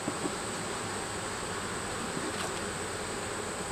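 Honey bees swarm around open hive frames during a beekeeping inspection, filling the air with a steady, dense buzz that stays close and even throughout, with no talking.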